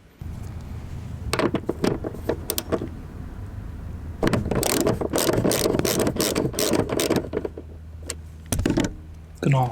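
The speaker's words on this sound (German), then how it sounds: "Jetzt gehe ich eben her und löse die beiden vorderen Schrauben erstmal nur an" Ratchet clicking in short bursts while loosening the seat screws of a BMW M2 Competition, fairly close, with quick repeated pawl clicks broken by pauses and a longer steady run of turning.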